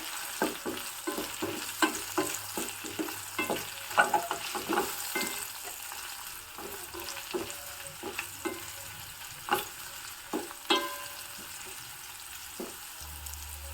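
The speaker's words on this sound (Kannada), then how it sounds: "ಚೆನ್ನಾಗಿ ಎಣ್ಣೆಯಲ್ಲೇ ಫ್ರೈ ಆಗಬೇಕು ಹಾಗಾಗಿ ಸಣ್ಣದಾಗಿ ಕಟ್ ಮಾಡಿಕೊಂಡ್ರೆ ತುಂಬ ಬೇಗ ಫ್ರೈ ಆಗುತ್ತೆ" Small-cut potato pieces sizzle in hot oil in a pan while being stirred, giving a steady close fry with repeated scraping taps of the spoon and no voices.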